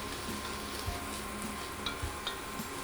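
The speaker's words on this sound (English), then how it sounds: "I'll just saute that just for 5 minutes until it's soft and translucent." Onion sautes in a pan, a quiet, even sizzle with a few faint stirring taps, steady throughout and without any talking.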